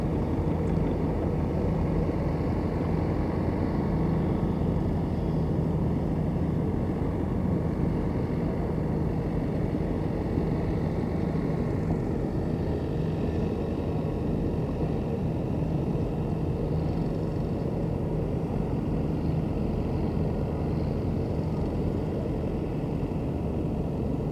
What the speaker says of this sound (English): garden tractors coming through